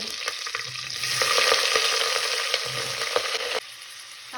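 Onions fry in a pot for Arabian chicken mandi biryani, a loud, continuous close-up sizzle with light stirring clicks before it drops to a quieter hiss, no talking.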